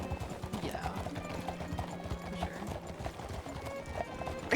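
Horse hooves clip-clopping at a steady riding gait in the Western video game Red Dead roleplay, continuous and moderately loud under ambient game sounds, with no talking.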